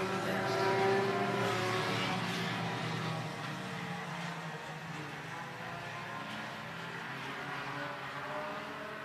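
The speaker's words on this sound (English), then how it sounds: "10 IMCA Sport Compacts here tonight as we look to wind down the racing action" IMCA Sport Compact cars race around the oval at I-76 Speedway, a blended distant engine drone that swells and fades as the field circulates, with faint crowd ambience beneath.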